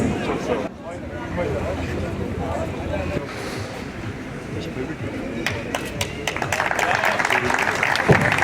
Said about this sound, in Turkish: Evet alkışlıyoruz, tebrik ediyoruz.